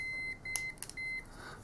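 A Fluke multimeter sounds its continuity test beep as the probes touch a battery terminal and a circuit board pin. Two short, thin electronic tones play close and quiet, with small clicks between them.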